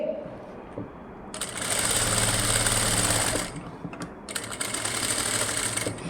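A sewing machine stitching along the neckline edge of an embroidered blouse, running in two sustained mechanical bursts with a short pause between them.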